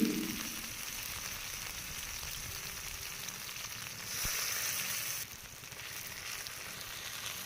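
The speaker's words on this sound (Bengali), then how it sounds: "প্রথমে তেলের মধ্যে দিয়ে দিচ্ছি পেঁয়াজ কুচি" Steady sizzling of chopped onion frying in hot mustard oil, a continuous broadband crackle that swells briefly midway, with no voices.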